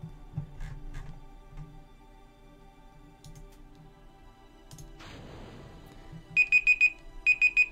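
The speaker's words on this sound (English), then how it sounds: "Oh, that's my alarm going off." A kitchen timer alarm goes off in two sets of rapid, high, repeated electronic beeps near the end, after a quiet stretch of low hum and a burst of hiss.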